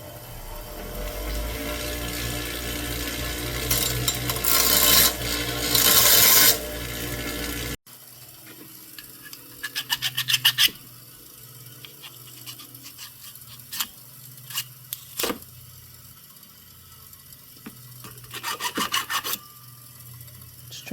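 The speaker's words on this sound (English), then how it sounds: "just smooth that out a little in a file" Hand file rasping burrs off a small steel woodruff key on a Yamaha Warrior ATV engine, in irregular bursts of scraping strokes, loud at first then lighter and intermittent against a quiet workshop background.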